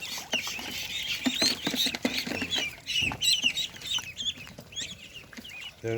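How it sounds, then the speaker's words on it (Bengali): Five young farm-raised ducks, about twelve days old, give busy close-up chirping and peeping calls with soft scuffling and patter as they are handled. "এই যে পাঁচ পিস হাঁস আছে"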